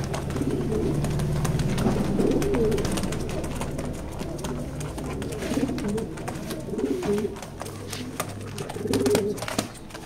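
Pigeons at the Molla pigeon loft coo in soft, overlapping low throaty calls throughout, close by, with rustling and light clatter in the background.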